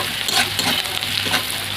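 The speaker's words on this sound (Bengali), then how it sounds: "পেঁয়াজটাকে লাল লাল করে ভেজে নেবো, টেস্টটা ভালো হবে।" Onions frying in a pan for a prawn and eggplant curry, a steady broadband sizzle with soft stirring scrapes rising and falling throughout, close and alone without voices.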